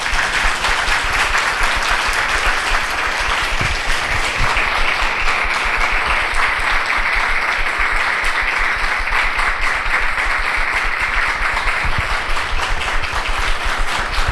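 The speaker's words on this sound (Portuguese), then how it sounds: "eu queria que todo mundo desse uma salva de palmas para o meu grupo" A closing-session audience for an urban planning extension course claps for a group in a long, sustained round of applause, dense and loud, holding evenly without letup for the whole stretch.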